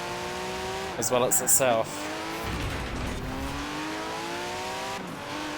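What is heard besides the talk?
car engine struggling around a corner in Forza Horizon 4 video game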